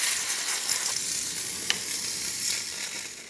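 A Rancilio Sylvia espresso machine fitted with a new water pump runs in a steady, close hissing and sizzling rush with faint mechanical clicks, no voices present.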